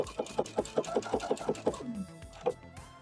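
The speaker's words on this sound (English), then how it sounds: "Now we need to just sew it back on right where the original stitch was." A sewing machine stitches bias binding onto a dress, running in a quick rhythmic chatter of needle strokes for about two seconds, then slowing and stopping with a few soft clicks and a last thump.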